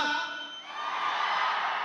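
A large movie theater crowd roars and cheers together, a continuous swell of shouting that dips briefly and then surges again.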